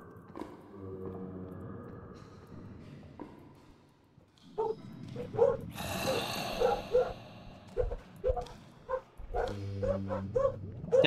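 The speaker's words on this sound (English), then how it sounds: "Sorry that you hear the dogs barking in the background." Dogs barking in the background of a Minecraft From The Fog play session, a run of repeated sharp barks and yips starting midway, loud and close at times, over faint game sounds.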